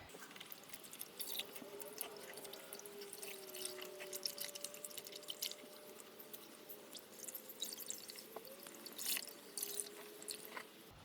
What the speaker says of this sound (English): I'm just going to give them a quick sort of dunk into the water to get most of the colour out